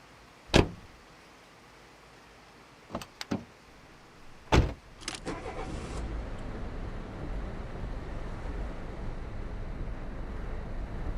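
A police car door clunks shut several times in quick succession as someone gets in, then a steady engine hum and cabin rumble settles in and carries on evenly to the end.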